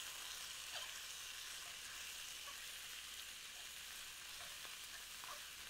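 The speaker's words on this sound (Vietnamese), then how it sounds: "chúng ta mới cho dưa cải và chúng ta xào" Pickled mustard greens stir-frying with garlic in a hot pan give off a steady, even sizzle throughout, with a few faint stirring clicks scattered over the hiss.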